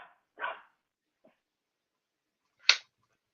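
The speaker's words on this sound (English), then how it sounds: "sorry about the dog. He hears a siren." A dog barks sharply a few times indoors, reacting to a passing siren; two clear barks with a faint one between, close but moderate against a quiet room.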